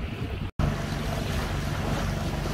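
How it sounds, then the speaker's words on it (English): A 29-foot sailboat heading west through a narrow, shallow passage, with a steady wash of water and wind rushing over the microphone throughout, broken by one brief dropout. "approaching Little Detroit in a 29-foot sailing vessel heading west."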